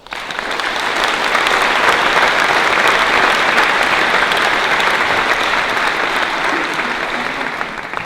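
Audience applause at a science festival opening ceremony, a broad, dense wash of clapping from a large crowd that rises quickly, holds steadily loud and then begins to fade.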